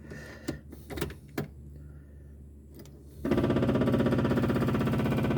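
An electric fuel pump on a barn-find Mk1 Ford Escort with an empty carburettor comes on after a few clicks and knocks, then runs with a steady, close, pulsing buzz.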